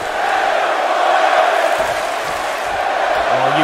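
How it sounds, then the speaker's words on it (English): A large wrestling arena crowd in the WWE 2K game roars in a steady, dense wall of cheering and shouting through the whole stretch, loud and continuous with no distinct breaks. "you can hear this crowd is behind Daniel Bryan"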